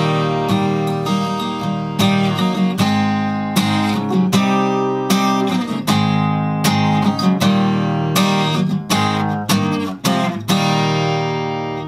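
Guitar plays the interlude of a song in E, a steady strummed chord pattern with bright, evenly spaced strokes, close and alone for about twelve seconds.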